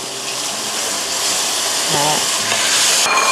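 Steady hissing sizzle of pork stir-frying in a pan with a little coconut milk, with brief scraping stirs and a faint voice in the background.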